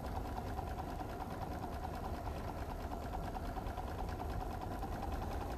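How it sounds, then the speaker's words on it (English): A sewing machine runs steadily through free-motion quilting, stitching around pebble shapes on fabric, a continuous close mechanical hum and rapid needle chatter with no pauses. "what I want to do is just kind of go around some of these nice pebble shapes"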